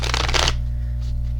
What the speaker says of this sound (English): Now, right now, while I'm shuffling the cards